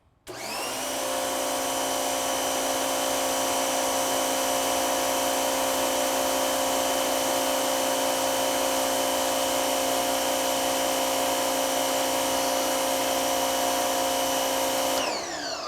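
An electric active pressure washer fitted with its factory nozzle sprays without a break, a loud, steady whine and hiss that starts abruptly and holds for about fifteen seconds before cutting off.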